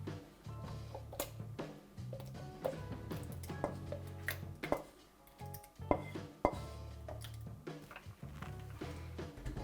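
Hot meatball sauce being whisked in a jug, quiet rapid clinking and tapping of the whisk against the sides in uneven bursts, close and fairly faint, no talking.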